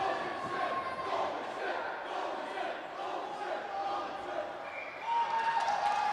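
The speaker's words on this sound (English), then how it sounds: "A very festive and feisty crowd here tonight" A festive, feisty crowd at a high school boys hockey game on senior night fills the rink with a steady roar of voices and cheering, rising near the end.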